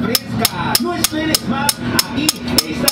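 Sharp metal hammer blows on a tool driving a bushing out of a 1945 Holley carburetor for a Slant Six engine, about ten evenly spaced strikes in a steady rhythm, close and loud.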